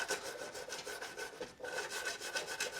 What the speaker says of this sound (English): Let me wire brush that one a little bit, it's kind of dirty.